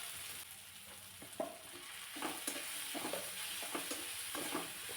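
Cauliflower and tomato being sautéed with a little salt in a pan, a soft steady sizzle with repeated gentle scraping and stirring strokes, quiet and without speech.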